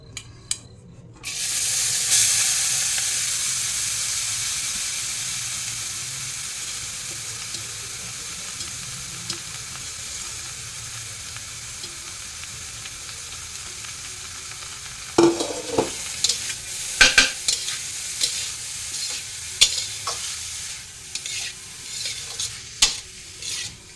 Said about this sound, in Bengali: গাজরটা একটু ভেজে নেব।